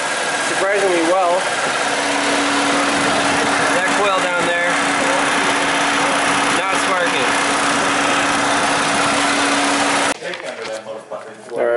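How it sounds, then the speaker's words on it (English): A 1988 Oldsmobile Cutlass engine idles roughly while misfiring on only two cylinders, giving a steady loud running drone with uneven pulsing throughout and a low hum, before cutting off abruptly near the end, with voices over it. "here it is, running on two cylinders, surprisingly well"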